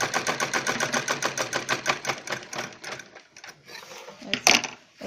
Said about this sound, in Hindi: अभी देखिए हम ऐसे पहले इसके ऊपर सीधी सिलाई लगाएंगे